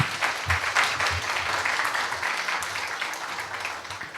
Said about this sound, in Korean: 큰 격려의 박수 부탁을 드립니다